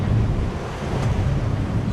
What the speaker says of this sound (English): You can hear the rigging.